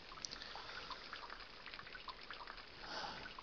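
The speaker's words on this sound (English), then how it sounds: "Well, at least the water's not hurting us." Flowing water in Quake 2 keeps up a steady, fairly quiet rush and trickle with faint drips throughout, alone and without speech.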